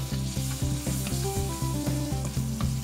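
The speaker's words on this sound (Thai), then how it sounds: "ใส่กุ้งไปเลยครับ" Fresh shrimp frying in butter over high heat, a steady close sizzle with regular scraping strokes from stirring, continuous and unbroken, with no voices.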